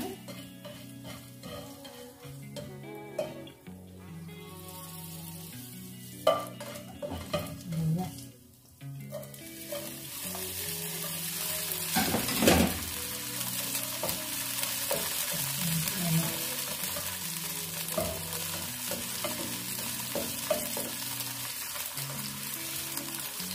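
Onion sautés in a hot pan for ginisang kalabasa, a steady sizzle and frying crackle with intermittent stirring scrapes and utensil clinks, louder and denser in the second half.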